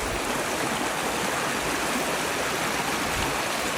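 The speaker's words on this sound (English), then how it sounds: "So the creek goes all the way down, and there's waterfalls that go down" A creek on rural property flows steadily nearby, an even, unbroken hiss and babble of running water with no other sounds.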